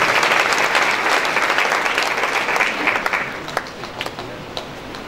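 A church congregation at a Sunday worship service gives loud, close applause to welcome a visiting preacher, the clapping gradually thinning and fading toward the end.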